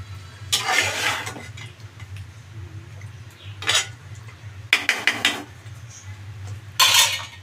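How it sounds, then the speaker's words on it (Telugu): Food being stirred in a cooking pot after salt is added, with bursts of metal spoon scraping and clattering against the pot over a steady low hum, close by. "ఉప్పు వేసినాక ఇలా కలపండి, అంతా కలిసేలాగా కలుపుకోండి"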